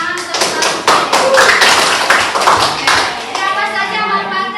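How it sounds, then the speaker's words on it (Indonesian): A classroom of students breaks into dense, steady clapping for a classmate who has just stood to answer, loud and close for several seconds before trailing off, with a few voices talking over it. "tepuk tangan untuk Samsi"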